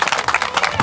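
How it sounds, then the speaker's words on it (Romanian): Audience applause at a prize-giving ceremony in Romania: a short burst of many hands clapping in a dense, even patter, fairly loud and close, with no pause. "un rând de aplauze!"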